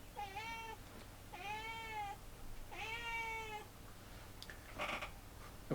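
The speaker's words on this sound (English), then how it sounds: "the cat with the loudest mouth is going to be, Yana, hush, just be cool." A house cat meows loudly three times in a row, long drawn-out calls at steady intervals, close by, followed by a brief scuffing noise.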